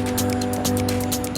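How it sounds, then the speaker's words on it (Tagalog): Creek water flows and splashes at a historic railway trestle on Ladner Creek, a close, continuous rushing burble with irregular surging gurgles; no voices. "Yan pa yung tubig."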